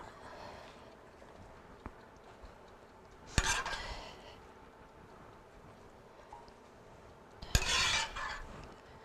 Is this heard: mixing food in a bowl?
yes